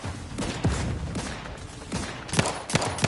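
Rapid gunfire from a firefight in the video game The Outer Worlds 2: loud, clustered shots and short volleys crackling over a noisy battle background, with sharper cracks near the end.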